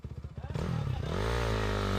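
An enduro dirt bike engine pops in quick pulses, then revs up hard into a loud sustained roar, close to the listener.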